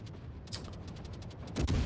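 Ship guns in a naval video game firing a rapid salvo at an aircraft carrier, heard as a quick series of sharp bursts over a low rumble, with a heavier blast at the end.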